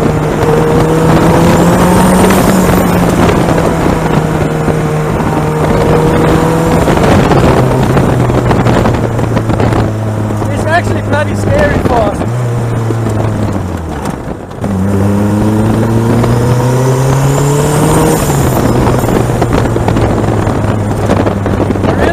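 Ariel Atom engine intake roaring on a fast mountain drive, a loud continuous drone that rises and falls with gear changes, a brief dip mid-run, with wind buffeting over it.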